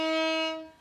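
A bowed string instrument sustains a single clear, bright tone that fades out within a second. It plays alone and close.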